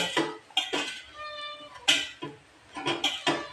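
Several sharp clinks and knocks of dishes and pots being handled close by while washing, irregular and spaced out, with a brief tonal ring in the middle.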